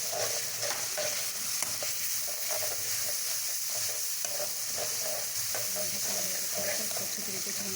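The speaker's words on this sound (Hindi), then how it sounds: "प्याज और हमारे टमाटर अच्छे तरीके से भून चुके हैं" Onions, tomatoes and ginger-garlic paste sizzle steadily in a pan while being stirred, with continuous close frying crackle and repeated soft scraping strokes.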